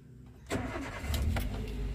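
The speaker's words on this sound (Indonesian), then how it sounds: "untuk suara mesinnya juga masih halus" A 2014 Toyota Avanza Veloz with manual transmission cranks and catches, its engine firing up abruptly and settling into a smooth, steady idle heard close by.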